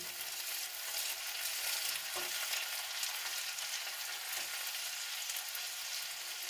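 Onion, garlic and chopped ginger fry in a pan with a steady, even sizzle that carries throughout, punctuated by a couple of faint stirring clicks, no talking.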